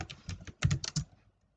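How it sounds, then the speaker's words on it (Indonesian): Quick keystrokes on a computer keyboard while typing in Microsoft Word, a close burst of a dozen or so clicks that then stops. "langsung kita ketikkan berdasarkan"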